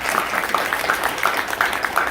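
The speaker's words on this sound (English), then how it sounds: "So round of applause for Mr. Garza." Audience applause at a Texas State Board of Education proclamation honoring Boys and Girls State student delegates, greeting Mr. Garza: a steady, dense wash of clapping at moderate volume that holds evenly for about two seconds.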